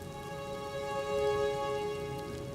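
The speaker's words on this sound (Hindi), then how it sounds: "इतनी बारिश मैंने कभी नहीं देखी।" Heavy rain falls steadily as a dense, constant hiss, with an even droning hum running underneath it the whole time.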